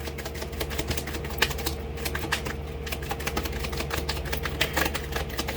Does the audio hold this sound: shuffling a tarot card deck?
yes